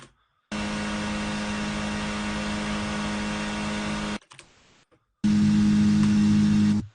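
Unprocessed car engine and exhaust sound from Unreal Engine 5, a steady droning hum with strong low harmonics, cut off around four seconds, a short quieter gap, then resuming louder.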